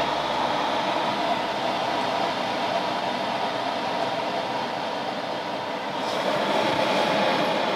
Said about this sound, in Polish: Z tego co wiem, to wentylator jeszcze przez chwilę nam pochodzi.